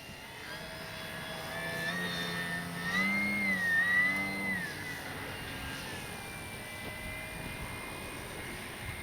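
A Flex RV-8 60E G2 electric RC airplane flies overhead in advanced sport mode, its motor whine rising and falling in pitch as it swells closer around the middle, then fades slightly.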